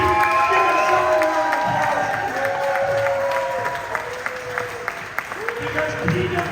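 Wrestling fans at a farewell event applaud and cheer loudly, a dense crowd roar with whoops and shouts, a voice speaking over the clapping as it slowly thins.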